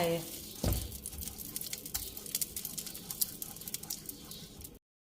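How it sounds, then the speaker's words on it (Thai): Pork lard hits a hot wok for a stir-fry of bamboo shoots with eggs, bursting into a sudden close sizzle. Light crackles and spits continue quietly after it. "ผัดด้วยน้ำมันหมูค่ะ ใส่น้ำมันหมูลงไป"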